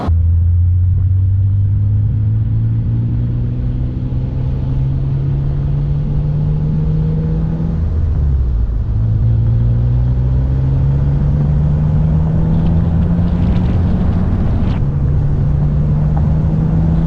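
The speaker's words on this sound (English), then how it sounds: "That's my first back road drive on the car since I've started daily driving it" A car out on a back road drives along with a loud, steady engine drone and road rumble, the pitch climbing slowly, dipping briefly as it shifts gear, then rising again.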